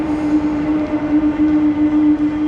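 An RB14 regional train approaches a Berlin station, producing a loud, steady rumbling roar with a strong sustained hum throughout, close by and without talk.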